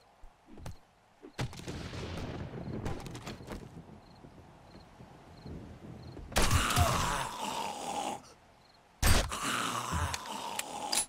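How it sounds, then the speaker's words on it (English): Silenced pistol shots fired in the survival video game 7 Days to Die, several sharp suppressed bursts amid game noise, with clustered loud pops near the end. "Love the silencer on the pistol."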